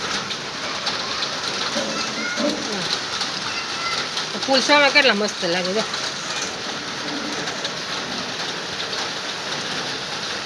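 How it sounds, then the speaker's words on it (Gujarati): Heavy monsoon downpour hisses steadily on surfaces at close range, a dense constant wash of rain, while a person speaks briefly partway through. "આજે તો આવી ગયો છે આપણે ધોધમાર વરસાદ"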